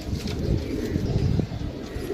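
Pigeons coo steadily and close by, a low continuous murmur of several birds in a flock being checked and counted for sale, with no talking over them.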